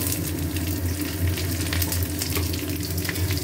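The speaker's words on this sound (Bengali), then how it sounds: "পেঁয়াজটা দিয়ে ভাজবো।" Onions fry in hot oil in a wok with ginger and garlic, giving a steady, close sizzle with a low crackle throughout and no voices.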